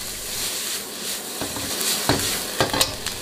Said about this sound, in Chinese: 开大火把蔬菜炒软